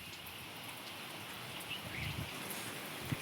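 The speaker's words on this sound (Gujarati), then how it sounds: "તો એટલો વરસાદ આવે છે" Heavy rain falls steadily in the wind, a dense even wash of drops with no voices, rising slightly toward the end.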